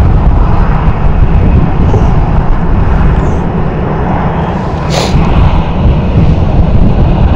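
A fixed-wing airliner takes off at Stansted Airport, a loud, steady jet engine roar filling the whole stretch from nearby, with a brief sharp click partway through and no talk.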